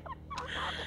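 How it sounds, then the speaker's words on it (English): Trained chickens jumping onto cups give a few short clucks and a brief squawk close by over a low background hum. "She has these trained chickens that like to jump up on these cups."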